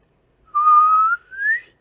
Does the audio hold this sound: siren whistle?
yes